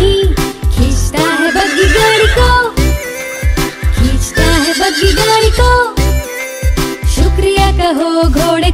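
Horse neighing and whinnying in a children's rhyme setting, loud and repeated over a bed of music, with faint hoof clip-clops.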